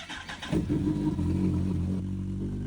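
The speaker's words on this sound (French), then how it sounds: "T'entends la pompe à essence se mettre en route" A 2006 Kawasaki ZZR 1400 motorcycle engine cranks and catches, settling into a steady low idle, with the fuel pump's brief whirring hum underneath near the start.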